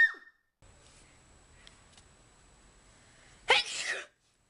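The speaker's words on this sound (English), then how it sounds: "Excuse me, I'm gonna sneeze, I think." A woman with a cold lets out a single sharp sneeze close up after a few quiet seconds, loud and abrupt before fading into silence.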